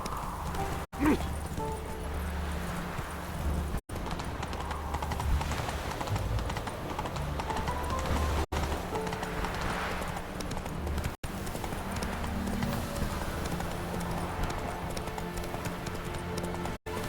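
Roach, Geralt's horse in The Witcher 3, gallops steadily with continuous pounding hoofbeats, a brief whinny near the start and a few short drops in the sound along the way.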